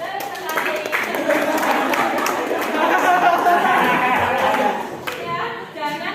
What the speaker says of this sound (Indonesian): Silakan tepuk tangan, betul sekali.